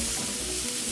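Grated carrots and garlic sizzling in a pan, a loud, steady, dense frying hiss that holds without a break.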